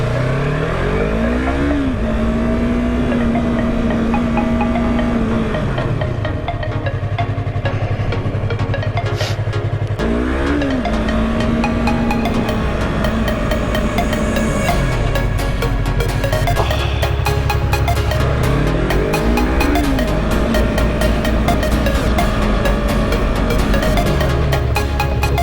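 A Yamaha R3 motorcycle repeatedly accelerates up through the gears to about 30 mph and then brakes, its engine note rising and dropping in three loud, close cycles with no talking.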